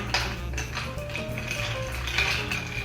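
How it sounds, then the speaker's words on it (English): Ice clinking and rattling against a glass as a bourbon or rye whiskey cocktail is stirred with a bar spoon, a steady soft continuous jingle close up with no talking. "Put a lot of ice and stir. I'm just going to be stirring the drink."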